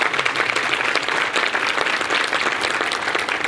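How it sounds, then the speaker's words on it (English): Audience applause fills a hall at an Upstate Latino Summit award event, loud, dense and sustained clapping from a large crowd with no break. "Let's give her a round of applause."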